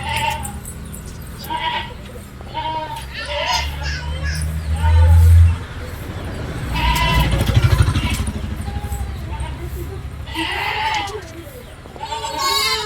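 Nine goats, three male and six female, bleat repeatedly in short, wavering calls from close by, with people talking and a motorcycle engine revving briefly in the middle.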